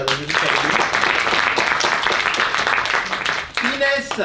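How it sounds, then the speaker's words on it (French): Theatre audience applauding a teenage performer after a Cinderella role, a sustained crowd of hands clapping at even strength, with a voice briefly speaking near the end. "Et encore une fois, on peut l'applaudir."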